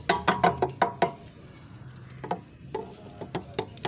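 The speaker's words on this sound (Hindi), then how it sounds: "इस तरह से आपने कोपैक्स पाउडर छिड़कना है इसमें" Copax powder sprinkled by hand into a parrot breeding box for ringneck nesting material, a run of short soft patters and taps in quick bursts, then scattered lighter ones after a brief lull.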